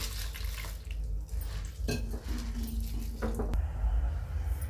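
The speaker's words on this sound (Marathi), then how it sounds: "आता 1-2 पाण्याने आपल्याला याला धुवून घ्यायचंय" Sorghum grains (hurda) and chickpeas are washed in water, with steady sloshing and splashing plus a few sharp clinks and rattles against the container. The sound is close and fairly loud, with no talking.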